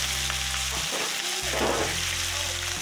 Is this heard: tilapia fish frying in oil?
yes